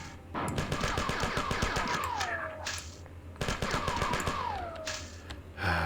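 Rapid bursts of gunfire from the Marathon video game, loud and close, in two long rattling volleys each trailing into a falling whine, separated by a brief pause.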